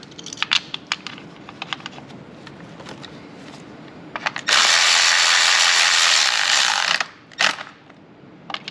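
A ratchet tightening valve cover bolts on a Ford 2.0 liter engine, with short bursts of clicking followed by a long, loud continuous run of rapid ratcheting, then a few more clicks, close up.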